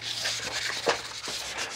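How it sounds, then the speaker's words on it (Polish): Sandpaper rubs over primed aluminium car rims in a repair shop, a close, steady scratchy scrubbing with a few quick back-and-forth strokes. "Pogruntowane i my sobie tutaj szlifujemy"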